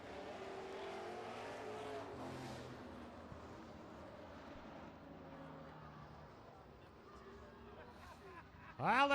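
Super trucks racing on an oval track, a distant engine drone that rises and falls under a crowd-like wash, then a loud close engine burst at the very end.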